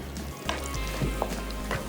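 Four or five whole red chillies fry in hot oil, a close continuous sizzle dotted with small pops and crackles.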